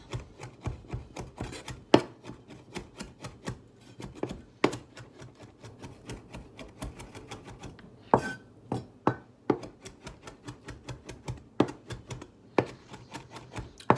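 A Wusthof knife chops food on a cutting board while tuna salad is made at camp, with a quiet, close series of irregular sharp taps and scrapes and no one talking.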